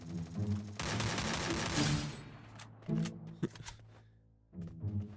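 Rapid bursts of gunfire in the shooting game Free Fire, loud automatic volleys separated by short pauses, with lower game sounds beneath.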